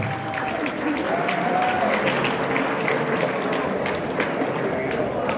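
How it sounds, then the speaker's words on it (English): An audience applauds steadily at a fashion show in a ballroom, with cheering and voices mixed into the sustained clapping. "one more round of applause"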